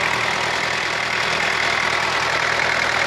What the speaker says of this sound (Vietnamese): Đây là cái máy đang hoạt động đây